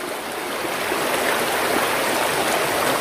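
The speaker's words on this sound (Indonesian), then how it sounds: "suara gemericik air gitu" A stream gurgles and rushes steadily near a path in South Korea, a dense, even flow of water noise with no voices.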